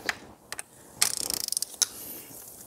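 A torque wrench ratchets on an intake manifold bolt with quick clicking, close and fairly soft, between a few isolated clicks and knocks. No one speaks.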